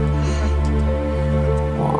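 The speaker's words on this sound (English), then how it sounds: "Look, a frog." A frog croaks in the video game The Everloom, a low, tonal croak over a sustained humming game soundtrack.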